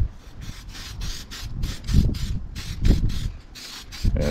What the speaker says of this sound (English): we're going to start out by spraying all the molds with a graphite powder